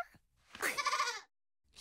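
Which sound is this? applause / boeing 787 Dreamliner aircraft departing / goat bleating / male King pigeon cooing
goat bleating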